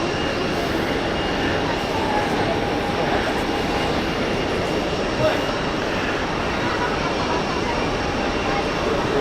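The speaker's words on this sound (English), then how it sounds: "Swiss flight from London Heathrow, just taxiing." Swiss passenger jet taxiing at Zurich Airport, a continuous broad engine roar and whine heard from a spotting position, steady throughout with faint speech mixed underneath.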